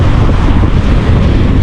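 Heavy surf roars continuously with strong low rumble, mixed with gusty wind buffeting the microphone; no voices.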